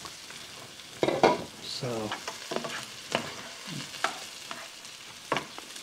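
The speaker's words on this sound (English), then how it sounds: "this has been sauteing for about 10 minutes. I'm trying to get the onions and celery and carrots to be good and tender" Onions, celery and carrots sauté in a pan with steady sizzling and a few scrapes and stirs, while a voice speaks briefly over the cooking.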